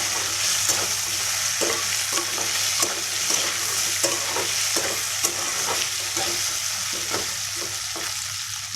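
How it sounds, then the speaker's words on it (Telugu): Boiled mutton frying in a pan sizzles continuously while a utensil scrapes and stirs it in a regular rhythm of soft knocks. "మొత్తం మిక్స్ చేసుకోవాలి."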